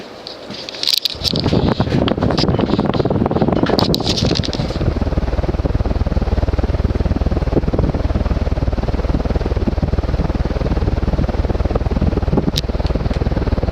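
A Moss CEC Hi-Line 42-inch close-mount ceiling fan with a cast iron motor gives a few knocks at the start, then a steady, close, breathy whoosh of moving air with a low hum.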